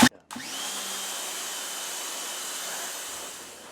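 Harbor Freight pressure washer spraying greasy residue off a wooden deck beneath a Traeger grill, a steady loud hiss of water that starts abruptly after a brief click and holds evenly throughout.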